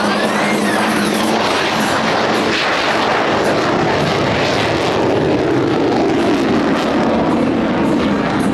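A military jet flies a tight, minimum-radius circle at the Atsugi air show, its engine a loud, continuous, roaring rush that fills the air throughout.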